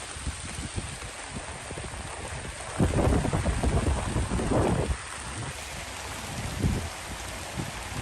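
Steady rain falls across an outdoor strawberry farm during harvest, with a dense continuous hiss and a louder, heavier burst of downpour in the middle before easing back, no voices present.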